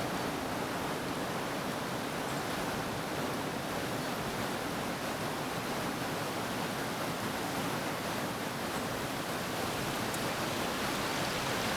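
A stream or river flows along its banks in wet Scottish countryside, a steady, even rush of water that holds at the same level throughout, with no voices.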